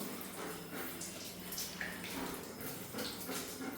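Cold water splashing and pouring during an animal's bath, a steady broadband wash of running liquid throughout, close and moderately loud with no talk.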